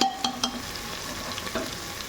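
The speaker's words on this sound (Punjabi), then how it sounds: "ਹੁਣ ਇਹਦੇ ਅੰਦਰ ਆਪਾਂ ਨਮਕ ਮਿਰਚ ਮਸਾਲੇ ਐਡ ਕਰ ਦਾਂਗੇ" Spices being stirred into a sizzling Punjabi-style spicy potato and pea curry in a pan, a steady frying hiss with a few sharp spoon scrapes and clinks near the start, close and fairly loud.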